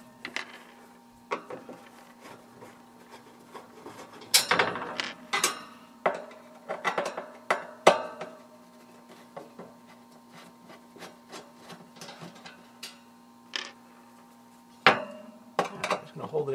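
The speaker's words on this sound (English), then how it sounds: "just taking these four screws out real quick" Screws are backed out of the cover of a marine air conditioner, giving sharp metallic clicks, clinks and small knocks at irregular intervals, close by and with quiet gaps between them.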